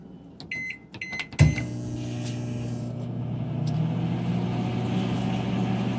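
A microwave oven hums steadily while cooking homemade candy, after a few clicks and a thump as the door shuts and it starts; a continuous even drone runs close by with no talk.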